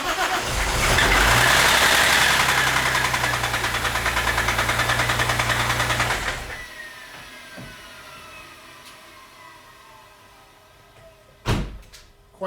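Supercharged Audi A4 2.8 Avant engine, in poor condition, cranks and runs loud and rough for about six seconds, then cuts off, leaving a low hum and a sharp knock near the end.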